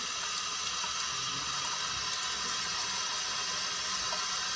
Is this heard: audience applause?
no